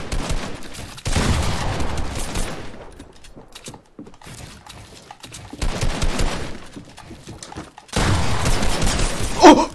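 Assault rifle fire in Fortnite, with bursts of game gunfire and impact noise recurring across the stretch, loudest at the start and again near the end, with quieter gaps between.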